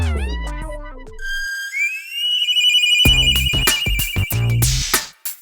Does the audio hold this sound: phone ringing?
yes